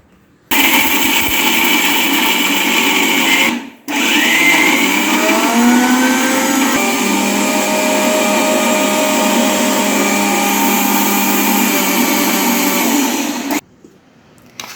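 A mixer grinder crushes coriander, ginger, green chilli, roasted gram and salt for chammanthi, a loud steady whirring roar that runs in two bursts with a short pause between and stops abruptly at the end.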